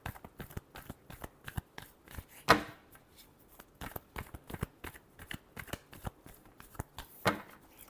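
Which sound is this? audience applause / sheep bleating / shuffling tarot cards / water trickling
shuffling tarot cards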